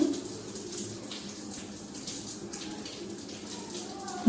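Boiled water poured from a pan into palm cake batter, a faint steady watery rush close by with no voices.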